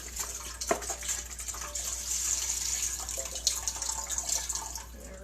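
Chicken stock from a carton pours into a soup pot in a home kitchen, a steady quiet liquid stream with light splashing heard close up and alone.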